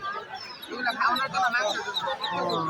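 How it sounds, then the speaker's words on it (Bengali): Busy clucking and squawking from many chickens and ducks fills the air at an old village livestock market in Bangladesh, with crowd chatter underneath. "এই যে মুরগি, বাচ্চা সহ মুরগি দেখুন। এটা না হাঁস আর মুরগি, প্রচুর পরিমাণে মুরগি আর হাঁস।"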